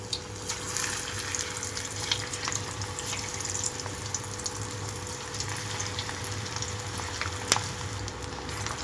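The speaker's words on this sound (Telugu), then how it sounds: "ఆయిల్ అంతా కాగిన తర్వాత నేనైతే పిండి కొంచెం కొంచెంగా తీసుకుంటూ ఇలా పకోడీలాగా వేసేసుకుంటున్నాను" Bottle gourd pakoda batter fries in hot peanut oil with a steady, close hiss and crackle, dense and even throughout, with an occasional sharper pop.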